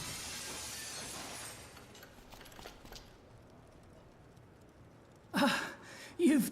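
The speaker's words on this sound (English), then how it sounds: "let's cross our fingers that the seat cover absorbs the noise of the breaking glass" A glass window breaks under a seat cover in the video game Dead Synchronicity. After a quiet stretch of faint background noise, two short, muffled crunching bursts come close together near the end.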